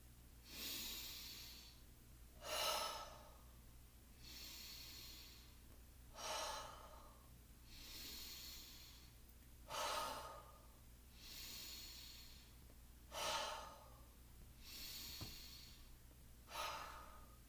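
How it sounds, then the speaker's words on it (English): Slow, deep breaths run in and out as a calm exercise, about eight soft breaths with pauses between, the louder inhales and exhales close and gentle, with no talking. "when you go up your finger, you breathe in. And when you go down, you breathe out."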